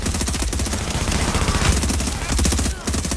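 Rapid automatic gunfire in The Division, a fast, evenly spaced stream of loud shots filling the whole stretch with only a brief gap near the end.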